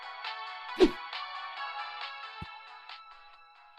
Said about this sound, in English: The piercing ringtone became more and more distant before it vanished completely.